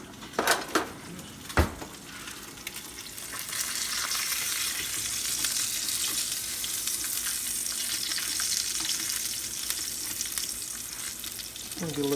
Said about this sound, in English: You want your flame to be on this fairly high, because what we're trying to do is we're trying to just sear that a little bit.